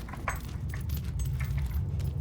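Keys jangle in the Fable 3 video game, a quick metallic rattle of a few light clinks over a continuous low rumbling background, fairly soft.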